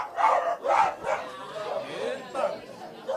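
A small dog, a committee mascot, barks a couple of short yaps close by amid crowd chatter and people talking in Portuguese at a Saint Francis feast-day gathering.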